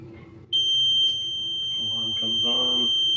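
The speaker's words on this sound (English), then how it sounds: "Alarm comes on." A boat engine's warning alarm switches on as the gauges power up, a sustained high electronic tone that holds steadily after a soft click, with faint low hum and brief murmurs underneath.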